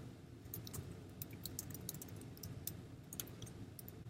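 Rapid, light clicking of fingers typing a web address on a computer keyboard, a steady patter of quick keystrokes over a low background hum with no talking.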